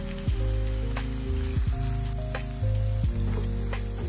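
Chicken masala being sautéed in a pan gives a continuous bright sizzle, heard under a louder stepped musical tune.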